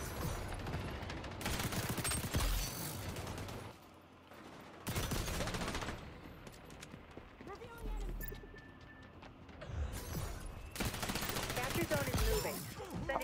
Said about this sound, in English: I was really shooting at him, bro, and he didn't know what's going on